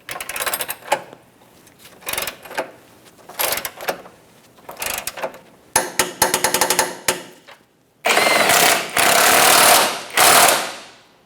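A ratchet or torque wrench is used on a subframe mounting bolt of a 2007–2017 Jeep Patriot, giving loud, close bursts of rapid clicking separated by short pauses, with the last few bursts longer and denser.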